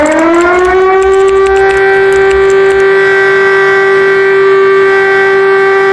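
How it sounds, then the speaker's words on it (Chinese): A civil defense all-clear siren sounds as a single long, steady tone after a short rising start, loud and unbroken with no talk. "最后就是解除警报信号"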